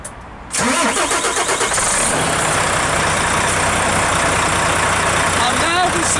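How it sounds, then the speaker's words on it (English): A vehicle engine cranks and fires into a steady loud idle in neutral with the handbrake on, the start-up burst arriving after half a second of quiet and running on continuously. "What I'm gonna do is start the vehicle up, ensuring that my handbrake is on and it's in neutral."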